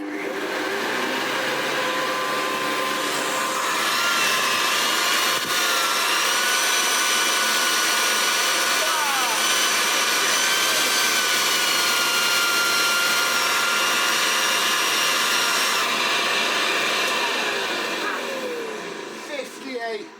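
A Hoover Convertible U4173 upright vacuum cleaner runs steadily on max mode, a loud sustained high-pitched whine and rushing airflow lasting the full stretch before tapering slightly at the end.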